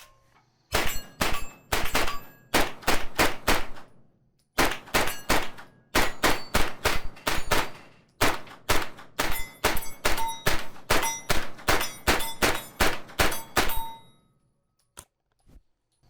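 A Mac 5 gun fires rounds rapidly during a torture test: loud, sharp shots with metallic ringing in several long bursts and strings, separated by short pauses, then a couple of isolated shots at the end.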